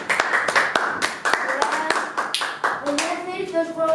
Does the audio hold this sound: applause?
yes